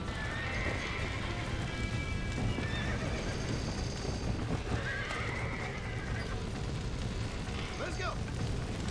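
A horse in Red Dead Redemption whinnies twice over a dense, roaring background of a burning barn, with hoofbeats and game noise filling the scene throughout.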